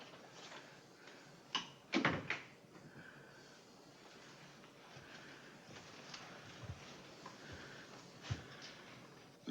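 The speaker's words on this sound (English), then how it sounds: "Close the door, Sigurd." A door closes indoors with a sharp, fairly loud knock and rattle near the two-second mark, followed by quieter thumps and faint room noise.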